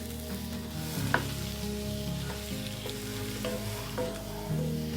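Half-frozen sausage fries in a pan, giving a steady close sizzle with faint crackles and a few soft knocks as it is moved; no voices.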